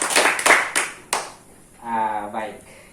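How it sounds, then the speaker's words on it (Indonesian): A small group claps briefly in a few quick bursts, then fades as a voice speaks over the room. "tepuk tangan untuk diri masing-masing karena semua seperti ini."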